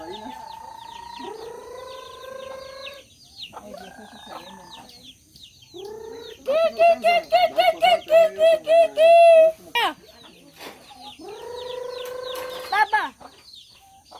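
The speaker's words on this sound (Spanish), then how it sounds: "Sí, salieron 4 gallinas." Hens on a rural farm cluck and squawk near by in a busy, repeated series, with a run of rhythmic calls in the middle, while people talk among the birds.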